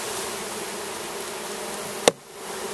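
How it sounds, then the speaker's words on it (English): Dense, steady buzzing of a honey bee swarm fills the clip, close and even, broken by a brief sharp knock near the end. "This is the swarm of bees David is going to be putting in there"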